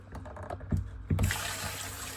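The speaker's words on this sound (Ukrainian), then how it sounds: "по одніньки миємо від сольки і складаємо обратно в тазик" Salted roach fish are rinsed one by one under water and placed back into a basin, with splashing and handling knocks followed by a steady run of water, close by and moderately quiet.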